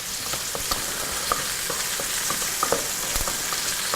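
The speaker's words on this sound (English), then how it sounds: "So we've got our bacon going." Bacon sizzles steadily in a pan, giving an even crackling hiss with scattered small pops and a faint stir or two. It sounds close and continuous, and nobody speaks.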